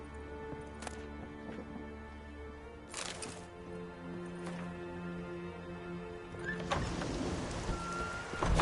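Rain falls steadily in The Witcher 3: Wild Hunt under a low drone, broken by a few sharp clicks or taps and thickening into a heavier wash near the end.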